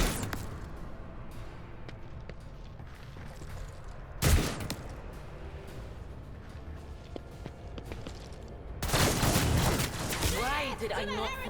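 A rending shotgun fires in Warhammer 40,000: Rogue Trader, a sharp loud blast midway followed later by a dense burst of gunfire and effects amid game ambience and footsteps.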